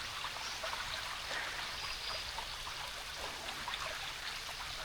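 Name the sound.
stream of water flowing on hiking trail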